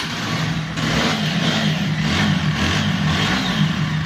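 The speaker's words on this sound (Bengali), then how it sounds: "বাইকটি ইঞ্জিন সাউন্ড একটিবার শুনিয়ে দিন" A second-hand TVS Apache 4V ABS motorcycle in fresh condition revs its engine, a loud, close, continuous roar that rises and falls in repeated swells over a steady idle.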